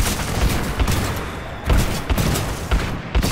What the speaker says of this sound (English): Come on, get the shotgun out.